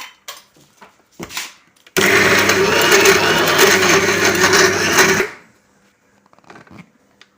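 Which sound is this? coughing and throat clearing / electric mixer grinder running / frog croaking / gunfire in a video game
electric mixer grinder running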